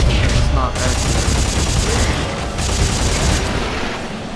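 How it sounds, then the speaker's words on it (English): A chain gun fires continuously in the video game Dead Space 3, a loud, dense, unbroken mechanical roar lasting several seconds with slight swells, close and dominant with no clear talk. "Difficult to deal with the chain gun. It's not accurate."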